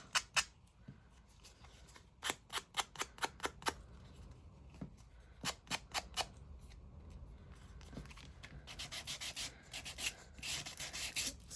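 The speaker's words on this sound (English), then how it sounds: "Going along the top. We'll sand that off." Hand sanding along the top edge of a paper craft card, close and crisp: runs of quick scratchy strokes in rhythmic bursts separated by short pauses, with no voices.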